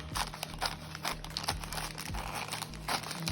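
Scissors cut through a plastic shipping bag for body butter, giving quiet, close crinkling and snipping in a series of irregular short bursts.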